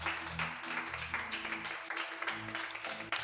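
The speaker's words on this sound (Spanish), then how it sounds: "Vamos a ponernos de pie y dile un fuerte aplauso a Yeshua" A church congregation stands and claps during a worship service, a soft, distant patter of many hands over a low sustained musical tone with faint tonal bands underneath.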